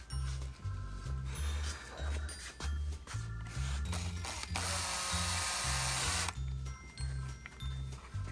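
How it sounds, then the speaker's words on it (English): A power drill driving a fastener on a trolling motor steering housing, with short whirring bursts in a stop-start rhythm and one longer sustained run, close and clear, no talking. "Use the drill for this."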